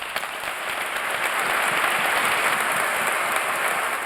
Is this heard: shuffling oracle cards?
no